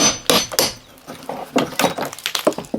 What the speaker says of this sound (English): you'll need to use a hammer and chisel, which I'm now going to use just to remove this material